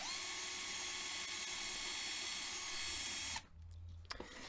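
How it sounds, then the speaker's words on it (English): A small power drill bores out the rivets of a Majorette Lamborghini toy car, a loud, steady high whine that runs for several seconds, then cuts off, leaving a low hum and a few light clicks. "But first, let's drill out these rivets."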